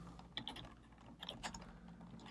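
A few quick keystrokes on a computer keyboard while entering a search in a business web application, soft clicks in two short bursts over a low steady room hum.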